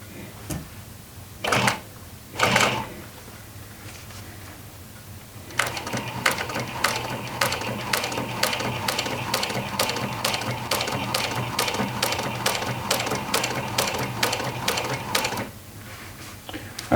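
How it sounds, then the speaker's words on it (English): A sewing machine top stitching jeans runs in a steady, fast mechanical clatter for about ten seconds, preceded by a couple of short handling rustles and ending with a brief stop. "we're back to top stitching now"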